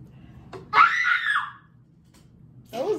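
A person screams once in a loud, sharp cry, then a second shorter scream follows after a brief pause indoors.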